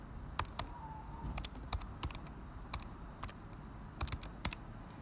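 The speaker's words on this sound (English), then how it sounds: "just type that in my calculator" Buttons on a calculator are tapped in a quick, irregular series of crisp, faint clicks, close by and alone in a quiet room.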